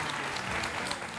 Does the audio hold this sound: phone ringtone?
no